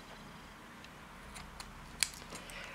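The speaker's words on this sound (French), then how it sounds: "On va couper un petit peu le vert ici" Scissors snip through green crochet yarn with one quick, close metallic cut against a quiet room, preceded by faint rustles of handling.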